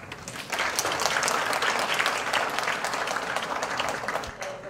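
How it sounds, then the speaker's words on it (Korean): An audience at a reading-education lecture breaks into sustained applause, a dense, even roar of many clapping hands that swells in quickly and holds steady for several seconds. "한번 큰 박수를 맞이해주시기 바라겠습니다"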